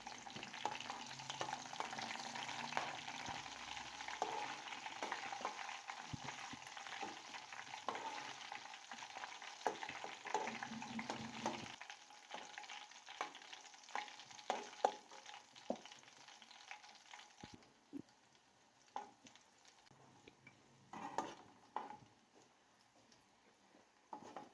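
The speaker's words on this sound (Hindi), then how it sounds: "जीरे को और अदरक को हल्का सा ब्राउन कर लेंगे" Cumin seeds and ginger sizzle and crackle in hot oil in a pan, with a steady frying hiss and occasional stirring scrapes, close and continuous with no talking.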